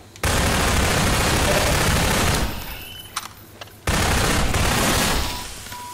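Rapid automatic gunfire in the video game Half-Life 2 Episode 2, loud, dense, sustained bursts that break off briefly, with a few sharp single shots in the pause before the firing resumes.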